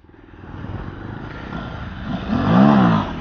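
Pulsar motorcycle revving hard during a wheelie stunt, engine note building and rising in pitch to a loud peak near the end, with a faint rumble of traffic beneath.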